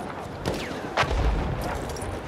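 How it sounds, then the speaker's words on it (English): Gunfire from the Mars automatic pistol in Battlefield 1: a couple of sharp shots at moderate distance amid busy game noise, with a heavier low thump following the second. "This Mars automatic pistol is garbage."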